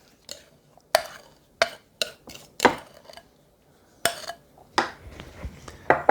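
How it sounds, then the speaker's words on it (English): Peaches with their sugar are spread into the bottom of an 8 by 8 pan, giving a series of sharp clinks and scrapes of a utensil against the dish, scattered irregularly and close by with no talking. "I'm going to spread those around in the bottom of my pan."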